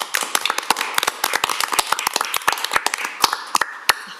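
A small group at a Metro Council meeting gives a round of applause: individual sharp claps, close and distinct, scattered unevenly with no talk over them.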